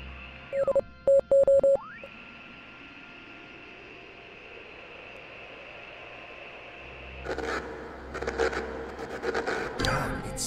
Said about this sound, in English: More Morse code.